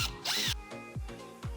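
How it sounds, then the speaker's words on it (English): A power drill boring holes into a wall to mount cameras during a church camera installation, heard as a few short bursts that rise and fall with brief pauses between them. "We got the drill, so we can put some holes in the wall and mount both of these cameras upright."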